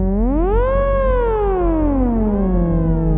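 A theremin sounds alone with a smooth, continuous electronic tone that glides up in pitch, then slowly sweeps back down, clear and sustained.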